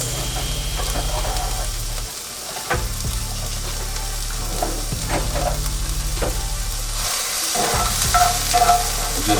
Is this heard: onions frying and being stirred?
yes